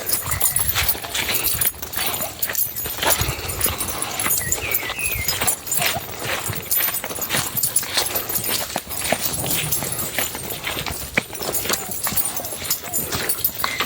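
A working farm horse clip-clops along with steady, close hoof falls, and people talk throughout over the rhythm.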